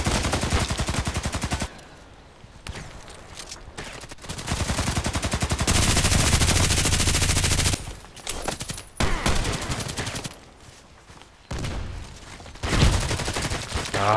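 Gunfire in the online shooter Contract Wars, with dense bursts of rapid shots broken by short quieter gaps, loud and close across the whole stretch.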